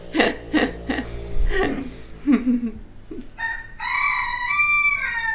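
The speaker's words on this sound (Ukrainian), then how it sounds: "О, півень." A neighbor's rooster in Praya, Lombok, Indonesia crows once, clear and fairly close, after several short voice-like calls or clucks.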